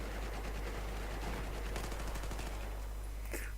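Rapid automatic gunfire in Battlefield 4, a dense continuous burst of shots with a bright crack near the end, over steady background game noise and no talk.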